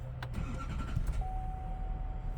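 A 2021–2025 diesel GMC or Chevy pickup cranks and catches, its engine starting after a few clicks and settling into a steady idle with a sustained electronic tone, close and moderately loud.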